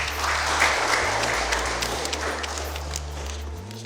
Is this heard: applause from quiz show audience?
yes